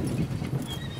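Australian draught horses walking in harness give soft, rapid hoof clops under a steady ambient rumble, close and fairly faint over one second.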